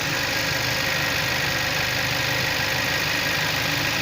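Kia Sorento with a 2.0 TGDI engine that has a knocking connecting rod, running steadily with a continuous broadband engine drone, loud and close, with no clear rise in pitch and no talk.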